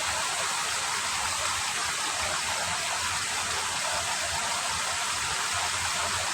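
Steady rain falls on melon seedlings, a dense, even hiss of droplets that holds at a moderate, fairly close level without pause and with no voices over it.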